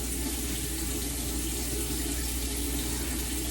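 Warm water running from a tap for a washcloth, a steady, even hiss of flowing water that stays constant and close throughout with no voices.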